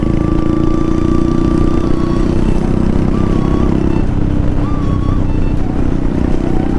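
A Royal Enfield Hunter 350 motorcycle engine while riding, a steady, loud, close thrumming drone with slight pitch shifts as the throttle changes, no talk over it.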